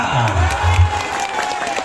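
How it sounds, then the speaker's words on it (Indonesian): Audience applause for a comedian at a Sundanese comedy show, a short burst of clapping with crowd noise and voices mixed in, fairly loud and close. "Tepuk tangannya buat Kang Oha."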